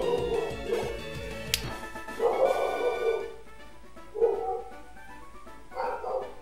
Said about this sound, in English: There goes the dog. Going off.